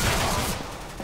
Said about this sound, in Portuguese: ele tá me atirando, mano